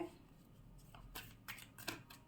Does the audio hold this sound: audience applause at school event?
no